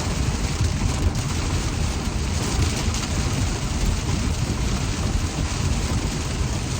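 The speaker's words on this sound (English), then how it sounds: "Wanna watch the rain?" Heavy rain pours down steadily, a dense, loud hiss of drops hitting surfaces close by without pause.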